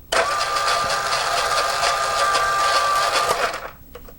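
Small electric motor of a 1991 motorized G.I. Joe Battle Wagon toy driving forward, a steady high-pitched whine for about three and a half seconds that stops abruptly, heard close up with no talking.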